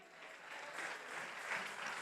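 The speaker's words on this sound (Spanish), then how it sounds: "Denle un aplauso a Jesús." A church congregation clapping for Jesus during a sermon, a fairly faint, steady burst of applause that carries on evenly for a couple of seconds with no talking over it.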